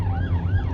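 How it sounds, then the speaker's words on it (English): Police car siren wailing during a pursuit, a rising and falling electronic tone over engine rumble, loud and close, brief. "Officers activated their lights and sirens and gave chase."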